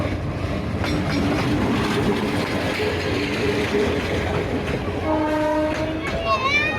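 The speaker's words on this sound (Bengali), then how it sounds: "ট্রেনটি 2 নম্বরে প্রবেশ করেছে" A train pulls into a station platform beside a village market, its wheels rumbling and clattering steadily up close before a loud horn blares near the end, with faint crowd noise underneath.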